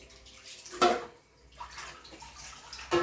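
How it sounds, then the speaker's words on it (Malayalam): Water splashes into a cooking pot of Kerala-style pork curry in short bursts, a close, gurgling pour with brief pauses between. "നമുക്ക് ഇതിനകത്ത് വേവാനുള്ള വെള്ളം കൂടെ നമുക്ക് ഒഴിച്ചു കൊടുക്കാം"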